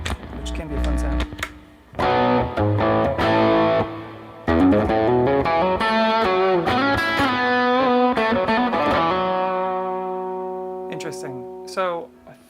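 Electric guitar, an Italia, plugged into its acoustic pickup and run through effects, ringing out chords and picked notes with sustained tails, loud and close, with short gaps and a long fading chord near the end.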